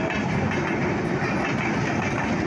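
An intercity train passes close by at Panchbibi railway station in Bangladesh, with a loud, continuous roar of rolling wheels and rattling carriages and a steady clickety-clack, and no voices.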